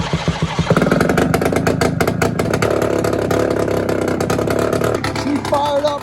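A motorcycle engine that has sat unused for a while cranks and fires up at close range, then settles into a steady, loud, rumbling idle that runs for several seconds.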